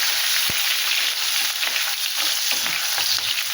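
Green chillies, nigella seeds and onion fry in a pan, a loud, continuous crackling hiss up close, with a sharp knock near the start and faint stirring scrapes beneath.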